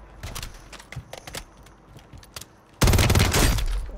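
Gunfire in a Call of Duty match, with scattered sharp shots and then a loud, sustained burst of rapid fire near the end, heard up close without talk.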